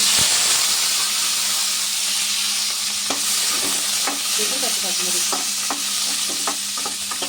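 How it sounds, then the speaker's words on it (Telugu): Green chillies and prawns fry in hot oil in a pan, giving a steady loud sizzle broken by scattered sharp pops and crackles, with no voices. "కొంచెం ఆ రొయ్యలు వేపిన తర్వాత మళ్ళీ కొంచెం నూనె వేసుకోవాలండి పచ్చిమిరకాయలు వేపడానికి."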